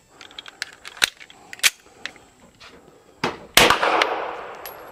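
A Callaway Ballistic is shot in a string of sharp cracks and light clicks at uneven intervals, ending in a louder burst followed by a noisy, fading wash.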